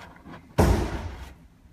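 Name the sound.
pulling the Jaguar XJ bonnet release lever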